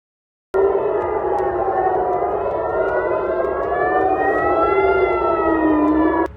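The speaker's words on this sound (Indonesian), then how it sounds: "Serangan rudal dilaporkan diluncurkan ke sejumlah titik di Israel dengan sirene peringatan dan aktivitas pertahanan udara meningkat di sejumlah kota." An air raid warning siren in Israel during a missile attack starts abruptly and wails loud and sustained, its tone slowly rising and falling with no voices over it.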